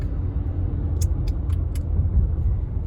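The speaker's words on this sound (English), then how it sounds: "Yeah, here's the stop traffic." A car idles and creeps through stop-and-go traffic on a mountain drive in the Sierra Nevada, a steady low cabin rumble with a few faint ticks, fairly quiet.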